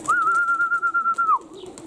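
Young pigeons fly in strong wind, heard as a close, steady high whistle lasting over a second with a rapid pulsing flutter, then a soft breathy rush afterward.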